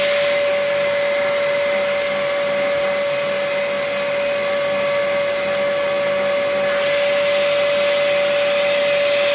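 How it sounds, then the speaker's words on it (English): A Dyson DC04 vacuum cleaner runs with its tool attachment sucking air, giving a loud, steady motor whine with a constant airy rush. The tone shifts slightly near the end, and no one speaks. "the tool suction is a million times better than on the DC04 that came before it"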